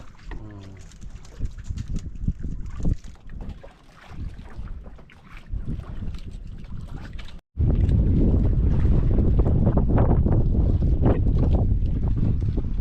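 Wind rushes over a fishing boat at sea, gusty and uneven at first, then after a brief cut becoming a steady, loud, close roar of buffeting air.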